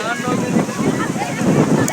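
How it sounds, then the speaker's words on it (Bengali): Strong wind at Patenga sea beach in Chattogram roars continuously as a broad, buffeting rush against the microphone, while people talk close by. "এখানে তো বাতাস বেশি"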